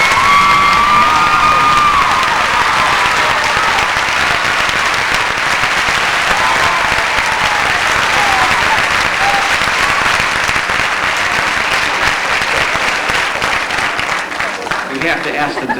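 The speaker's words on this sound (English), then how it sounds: "Give them a big round of applause." A large audience at the 1990 Miss Indiana pageant gives loud, sustained applause for the finalists, with scattered cheers and whoops mixed into the clapping.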